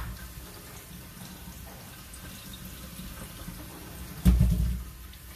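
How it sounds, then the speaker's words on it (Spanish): Water running from a tap over Rinat Aries Pro goalkeeper gloves, a low steady trickle with a louder splashing gush swelling briefly near the end. "Vamos a probar qué tal abajo de la canilla."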